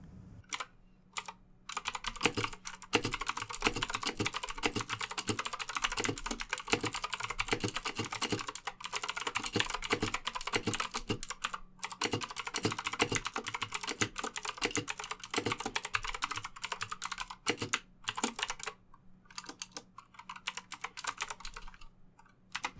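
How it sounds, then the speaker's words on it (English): Fast typing on an Anne Pro RGB wireless mechanical keyboard with Gateron blue switches produces dense, crisp clicking in continuous bursts, broken by brief pauses, close up and with no talk. "these are the Gateron blue mechanical switches in action."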